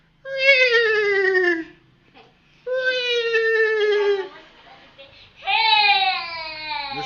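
A child imitates a horse neigh in three drawn-out whinnying cries, each a wavering, falling high-pitched voice, separated by short pauses in a quiet room.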